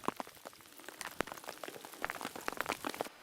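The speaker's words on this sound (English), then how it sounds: "It was raining" Rain patters on a mountain trail in Glacier National Park at about 36 degrees, faint, irregular drops and light taps spread across the clip with no voices.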